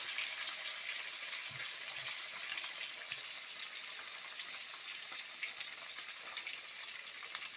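Fish fries in hot oil with a steady, fairly quiet hiss and crackle that continues evenly throughout, with no voices.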